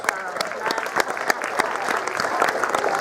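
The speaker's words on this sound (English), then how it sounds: "let's give them a big round of applause" Dense, steady crowd applause with sharp individual claps standing out, loud and sustained throughout without a break.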